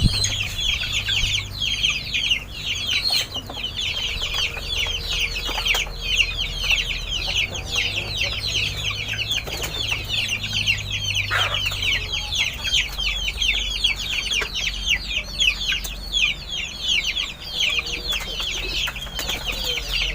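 Hungry chickens on a farm cluck steadily and busily while waiting for feed, a dense, continuous flock chatter with occasional louder calls over a low background hum, no talking.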